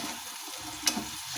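Food fries in a pan with a steady soft sizzle while a utensil stirs it, giving one sharp scrape and a quieter knock near the middle of the brief stretch.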